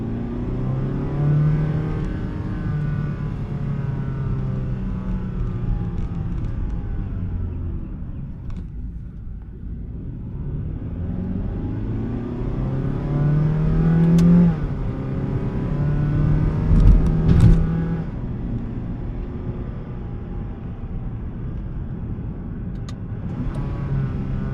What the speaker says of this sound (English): the engine will be like, the sound will be like very big